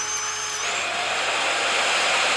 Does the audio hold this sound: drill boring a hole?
yes